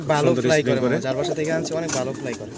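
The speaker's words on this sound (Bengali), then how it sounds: "চমৎকার একজোড়া ইরানি টগি কবুতর দেখতেছেন" Iranian pigeons at a farm coo in repeated throaty, rolling calls, close and fairly loud, with a person's voice talking over them throughout.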